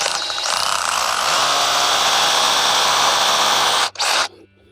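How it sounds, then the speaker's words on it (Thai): A cordless rotary hammer drill with a 6.5 mm bit roars loudly and steadily for about four seconds, briefly cuts out, revs once more, then stops, leaving a low hum. "ก็ใช้สว่านโรตารี่ไร้สายนะครับ"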